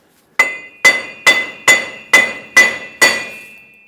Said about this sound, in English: take a hammer and tap the wheel bearing side to side